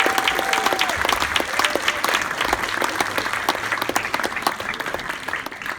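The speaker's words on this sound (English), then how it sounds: "Big round of applause, please, for them." Audience applause at a science talk before a film pre-screening, a steady wash of many hands clapping that holds at full strength throughout, with a faint tone early on.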